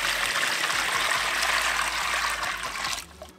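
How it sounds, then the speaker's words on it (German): Water at 30 degrees pours steadily into a container for water transfer printing, a continuous gushing splash that tapers off abruptly near the end, with no talking. "Jetzt kommt Wasser rein. Wasser soll 30 Grad haben."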